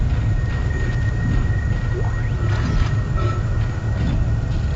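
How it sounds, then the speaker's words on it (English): Spaceship engines running in Dead Space, a deep, steady mechanical drone with a thin high whine laid over it, holding loud and unbroken throughout. "Alright, so now the engines are running."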